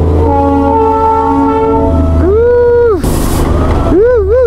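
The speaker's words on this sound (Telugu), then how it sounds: "Local train Norway." A coal-fired local train on old rails between Siliguri and Darjeeling passes close by, sounding loud, sustained horn blasts that bend up and down in pitch over a rumbling engine, with a burst of hissing steam in between.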